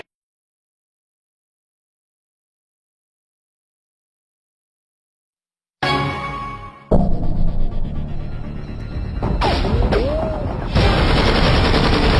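Gunfire from the Wii shooter game Red Steel, loud bursts of automatic weapon fire and booms that start abruptly after long silence and continue densely to the end.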